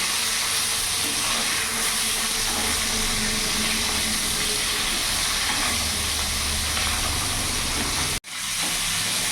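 Flipped boal fish pieces keep frying in hot oil, a dense steady sizzle close by, broken by one brief dropout near the end.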